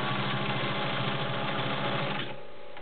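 A vintage Pfaff 130 heavy-duty sewing machine runs steadily at close range, with a dense mechanical whir and a rapid needle rhythm. The motor then slows and winds down in the final moment.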